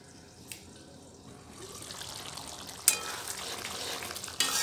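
Potatoes being stirred in a cooking pan while making a no-onion, no-garlic aloo dum, a soft continuous sizzle and scrape that swells midway, with a couple of sharp utensil knocks against the pan.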